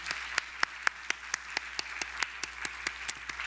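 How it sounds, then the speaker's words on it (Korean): A church congregation applauds steadily during a Sunday service, individual sharp claps standing out in a regular rhythm over a softer wash of clapping, with no talking. "큰 격려의 박수를 해주시기 바랍니다"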